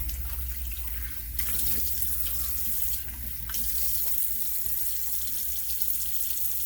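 Water runs steadily from a tap into a sink during a rinse after shaving, a continuous close splashing flow with a couple of brief shifts in the stream.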